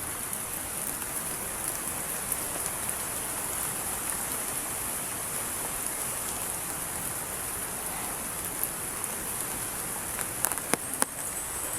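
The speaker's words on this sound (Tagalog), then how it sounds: "Medyo maulan pa" Steady rain falls outdoors, a dense even hiss holding throughout with no speech, plus a few brief sharper ticks near the end.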